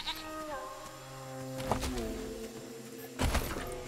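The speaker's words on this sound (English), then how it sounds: "That goat is starting to become slightly annoying." A goat bleating in Wasteland 3, two or three wavering calls close by, mixed with background game music and ambient noise, with no one speaking over them.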